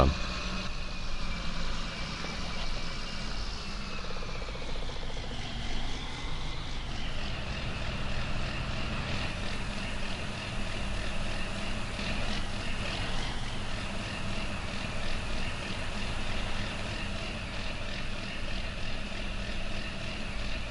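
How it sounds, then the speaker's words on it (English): A tractor engine in the farming video game Farming Simulator 19 drones loudly and continuously for the whole stretch, a steady mechanical roar with slight shifts in pitch and no talking over it. "God, that's loud. Seriously. Love this tractor though, it's great."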